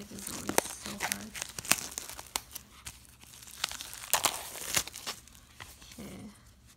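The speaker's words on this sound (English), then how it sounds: "I always have to pre-cut this because the plastic is always so hard" Hard plastic wrap on an album is cut and torn open close by, with repeated sharp crinkles, snaps and tearing bursts in an irregular rhythm and brief pauses between them.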